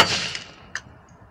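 A small electronic component wired in reverse polarity pops, giving one sharp, fairly loud crack that fades quickly into quiet.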